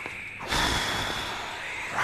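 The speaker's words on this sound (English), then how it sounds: "Oh, she's like sniffing at me." A monster in the Home Sweet Home PSVR horror game sniffs close at the player, a loud, breathy snort-like intake lasting over a second, near and unaccompanied by talk.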